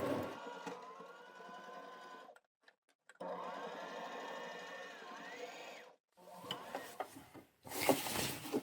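A sewing machine stitches a 12 mm shoulder seam on a Cashmerette Moto jacket, running in two steady bursts broken by a short pause, then stopping as the fabric is shifted with a few soft handling rustles near the end.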